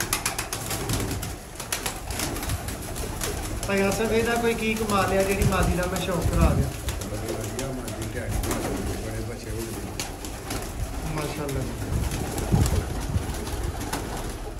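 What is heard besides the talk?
pigeons cooing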